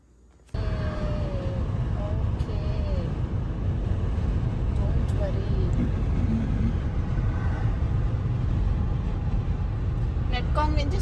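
A car drives along a road, heard as a constant low engine and tire rumble with wind noise from inside the vehicle. A few faint tonal squeaks drift in and out over the unbroken drone.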